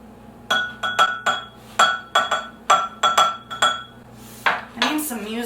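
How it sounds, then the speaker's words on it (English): A measuring spoon stirs ingredients in a bowl, producing a rapid series of sharp metallic clinks against the dish, about a dozen close taps in an irregular rhythm, with brief kitchen clatter at the end. "we're going to just use the measuring spoon to mix it all together"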